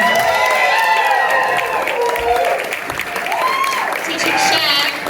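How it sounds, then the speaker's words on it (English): A crowd at a social dancing event applauding and cheering steadily for the dance teachers, with whoops and voices mixed into the clapping throughout. "Give them some applause"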